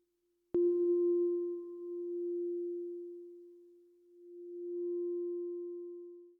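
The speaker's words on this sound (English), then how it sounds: "For a basic sine wave, this takes a form of simple amplitude modulation" A pure synthesizer sine tone starts abruptly with a click, then swells and dips in loudness as filter modulation sweeps through it, with a faint higher overtone fading in and out over several seconds.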